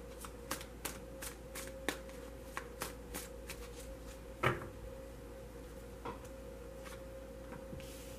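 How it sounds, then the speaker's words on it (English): Tarot cards are shuffled in short crisp riffles and snaps, a series of quick sharp bursts with pauses between, close up and with no voices. "so I'm only going to shuffle for a moment"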